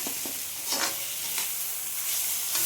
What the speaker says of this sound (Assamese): অকণমান সময় ভাজিছোঁ, তাৰপিছত মই পানী দিম।